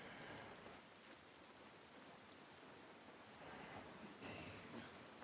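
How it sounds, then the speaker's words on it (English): Rain falls as a steady, faint hiss in the video game The Last of Us Part 1, with no talk. "This rain ain't gonna do us any good."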